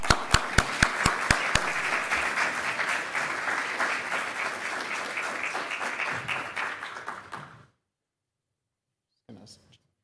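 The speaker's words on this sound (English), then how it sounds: "ask you to join me in giving him a round of applause" Audience at an evening talk at an Ottawa art gallery applauds to welcome a speaker to the podium, opening with a few sharp, distinct claps before swelling into steady applause that cuts off abruptly, followed by brief faint noise.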